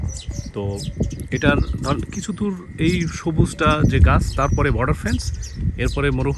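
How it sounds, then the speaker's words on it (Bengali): Birds chirping and cooing outdoors near a border fence and desert at the edge of Oman, bright calls scattered throughout beneath someone talking close by. "পাখির ডাক আপনারা শুনতে পাচ্ছেন।"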